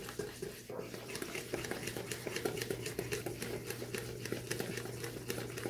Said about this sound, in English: working the whisk to the outside to pick up the flour that's on the edge